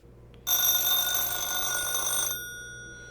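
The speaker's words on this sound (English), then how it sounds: "I am now going to call my home phone from my cell phone." A home landline telephone rings after being dialed from a cell phone, a single sustained electronic ring with bright tonal harmonics that starts abruptly, holds steady for about two seconds, then cuts off, leaving a faint hum.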